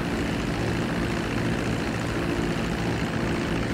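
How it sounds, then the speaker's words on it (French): Airplane engine in a video game, a dense, loud, continuous propeller drone with a constant roar and no voices. "là je suis avec un avion"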